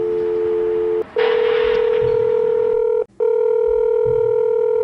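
A phone number being dialed with loud, steady keypad tones, broken by two short gaps where the next digit begins; no talking.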